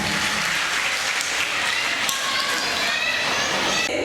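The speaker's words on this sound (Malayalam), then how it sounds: "clap hands for these little once" Audience applause for young children at a school annual day, a steady wash of clapping that holds for several seconds at moderate level.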